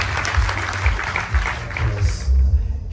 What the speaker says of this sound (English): Give Pandit Shekharji a round of applause.